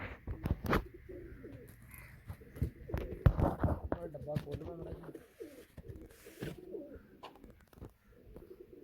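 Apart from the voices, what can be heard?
pigeons cooing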